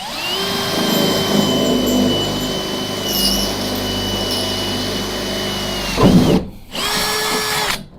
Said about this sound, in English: That's why I'm using, you know, this kind of a drill.